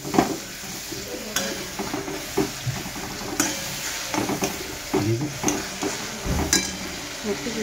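Tomatoes cooking in a pan for Bombay pav bhaji, sizzling steadily under repeated stirring and scraping strokes, close and moderately loud.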